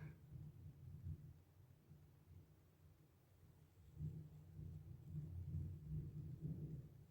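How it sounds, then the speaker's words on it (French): Faint, distant thunder rolling low during a summer thunderstorm on a very hot day, a soft rumble swelling near the end with no talk over it. "Il fait orage."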